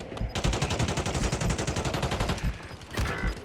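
Rapid automatic gunfire in the video game Call of Duty Warzone, a dense loud burst of shots that pauses briefly and then resumes, with no clear talk over it.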